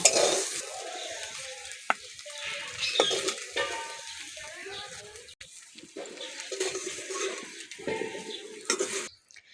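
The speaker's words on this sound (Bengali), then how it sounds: "নেড়ে চেড়ে ভালো করে লাল লাল করে ভেজে নেব" Soybean chunks with turmeric powder are stirred and fried in a pan, giving a close sizzle and scraping stir strokes with occasional clinks of the utensil against the pan.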